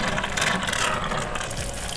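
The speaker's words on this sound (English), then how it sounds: "So we went with the upgraded pump," Continuous rushing, hissing water noise from a quiet upgraded water pump in an off-grid van, steady and running, fairly close and unbroken, with no talking.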